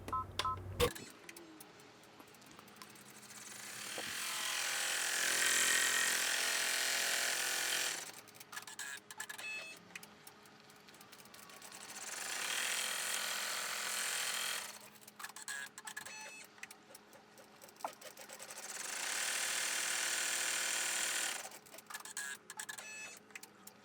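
An embroidery machine stitches an in-the-hoop mini composition notebook cover in long buzzing runs, rapid needle chatter rising and pausing between sections, with clicks and whirs in the gaps, close and steady with no voices.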